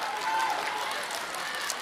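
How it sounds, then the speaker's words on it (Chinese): A theatre audience at a New Year crosstalk comedy show claps and applauds steadily, a dense sustained wash of hands with a crowd murmur beneath. "不让鼓掌非得鼓，是不是？"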